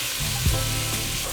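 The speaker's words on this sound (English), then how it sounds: "I'm going to start off first by browning the hamburger." Ground beef browning in a hot pan, a loud, steady sizzle and crackle heard up close, with a brief stirring scrape midway.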